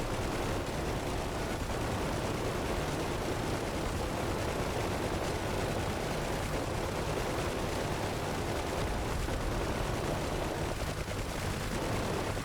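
Rumbling rocket blasts from a DCS World UH-1H helicopter mission, a dense, steady wash of distant explosions and crackling fire that holds at an even level throughout, no talk.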